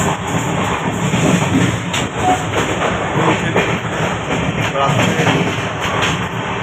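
Steady rumbling rattle of the Saraighat Express train rolling along the tracks, heard from a third-class AC coach, continuous and fairly loud, with faint rhythmic clatter throughout.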